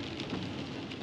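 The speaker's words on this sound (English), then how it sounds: "It's raining too, which absolutely sucks." Steady rain falling outdoors, heard as a dense, even patter with a low rumble beneath, constant and fairly soft throughout with no voices.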